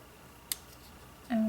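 Scissors snip once sharply through a paper flower stem for a journaling art page, a single brief close cut followed by a short voice.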